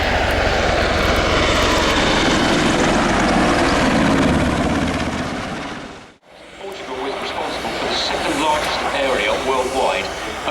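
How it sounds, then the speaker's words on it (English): A Portuguese Air Force Leonardo Merlin helicopter roars loudly overhead at RAF Fairford, its engine and rotor noise swelling, briefly dropping out, then returning with a chopping, whining drone. "now here's a familiar helicopter in unfamiliar colours, the Leonardo Merlin of the Portuguese Air Force"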